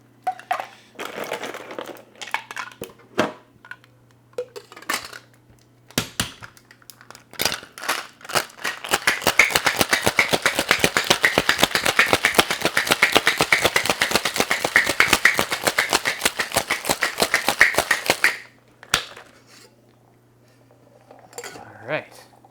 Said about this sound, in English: Now we wanna give this a shake and strain it into our cocktail glass.